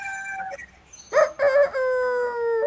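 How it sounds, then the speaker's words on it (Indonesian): A rooster crows nearby, a loud drawn-out call in several rising and sustained segments that ends in a long held note. "tuh ayam nih."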